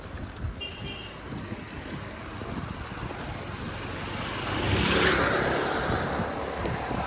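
Motorbike engine pulling a wheelie, a rough continuous drone that swells louder and nearer near the end, with wind and outdoor noise throughout.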